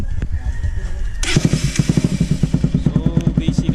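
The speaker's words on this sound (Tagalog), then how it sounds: "sound test tayo ng Akrapovic muffler na sponsored syempre" A Pulsar NS200 motorcycle fitted with an Akrapovic full carbon muffler, run open with no silencer, starts and settles into a loud, close, rapid throbbing exhaust pulse.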